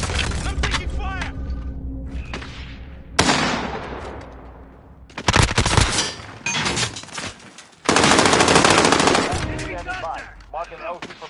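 Loud, close bursts of automatic gunfire in a military shooter video game, with rapid machine-gun volleys and sharp single shots broken by brief gaps, while voices speak over the combat.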